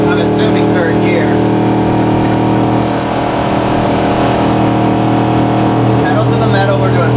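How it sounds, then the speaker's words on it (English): A gas-powered RV engine labouring uphill in gear at about 45 mph, a loud steady droning hum with road rumble inside the cabin, while a person talks over it. "You can hear that engine working."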